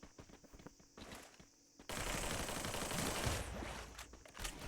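Automatic gunfire in a shooting video game, with sparse shots at first, then dense, continuous bursts of rapid fire that sound somewhat distant and muffled.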